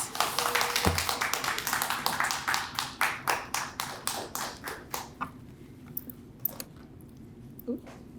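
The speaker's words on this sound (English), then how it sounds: "let's welcome her with a round of applause" Audience applause welcoming a presenter at a talk: a quick burst of claps that thins into slower, scattered, fairly quiet individual claps and trails off, with a faint voice near the end.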